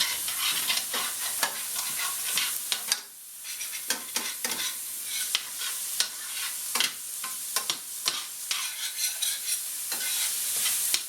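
Food frying in about a tablespoon of grapeseed oil in a pan, a steady close sizzle broken by frequent scraping and stirring clicks, with no talking.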